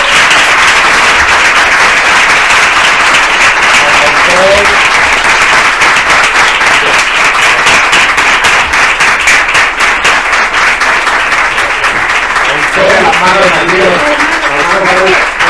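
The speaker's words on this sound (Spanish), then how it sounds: "Bueno, pues vamos a aplaudir, por favor." An audience at a Spanish book presentation breaks into loud, sustained applause, dense clapping filling the room from start to finish with a few voices mixed in.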